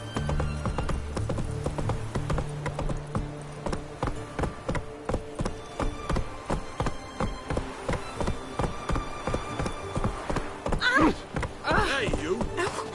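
A horse gallops in The Witcher 3, its hooves striking in a fast, steady clip-clop rhythm over game music, with a rider's voice speaking briefly and a neigh rising near the end.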